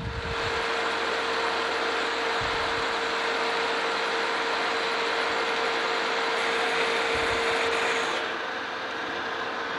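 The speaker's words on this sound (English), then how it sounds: "we've got a 3/4 inch drill that we're going to go through this time." A steady, loud mechanical whine and grinding hum runs throughout as a 3/4 inch drill bores through metal, with a constant tone and slight shifts in load, the bit slipping a little.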